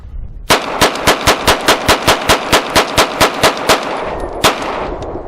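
A Ruger RXM 9mm pistol, a Glock-style clone, fires a rapid string of about eighteen loud, evenly spaced shots outdoors, each crack sharp and close, followed by a brief pause and one final shot.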